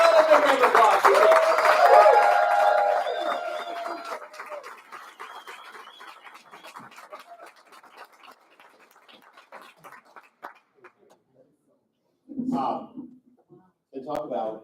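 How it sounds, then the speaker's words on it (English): A banquet audience claps for a Rotary Club award and charity check, a dense burst of applause that gradually thins and fades over several seconds. Brief talk follows near the end. "Another big round of applause."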